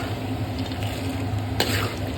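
Peanuts frying in a kadai with roasted gram being stirred in, giving a steady close sizzle and a brief louder scrape or clatter partway through, with no talking.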